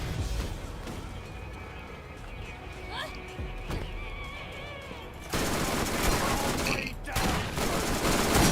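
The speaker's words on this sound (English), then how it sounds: "Quit shooting me, guys." Rapid bursts of video game gunfire in Borderlands, a dense loud fusillade of shots layered with game effects, continuing under a player's voice.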